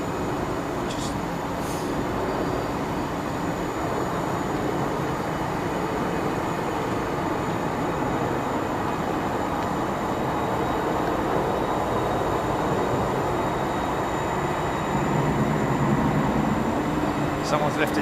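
A ground power unit runs beneath a parked jet at Ted Stevens International Airport in Anchorage, making a loud, continuous, even mechanical drone that holds steady throughout, with faint higher tonal whines above it.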